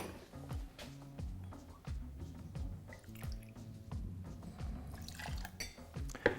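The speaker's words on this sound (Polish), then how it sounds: "Wleję 40 ml słodkiego wermutu." Sweet vermouth, 40 ml of it, is poured into a glass for a cocktail. The liquid trickles and drips faintly through soft background hum, ending with a small clink near the end.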